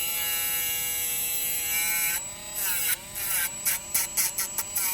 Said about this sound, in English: I use my grinder here. I'm gonna put it on, and we just tap it on in.